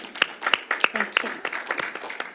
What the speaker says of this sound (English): Also, a round of applause.